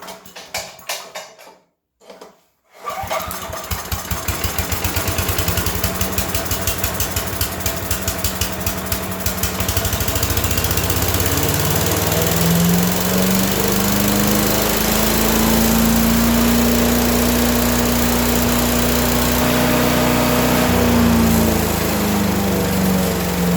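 A small engine, carburetor just reinstalled with the air filter housing still off, cranks, catches and settles into a loud steady run, its pitch wavering up and down as it revs, with no talk.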